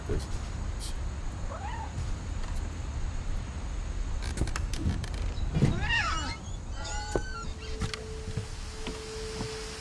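A cat in the video game What Remains of Edith Finch gives a couple of short rising meows over a low rumbling background, with a person talking in the clip.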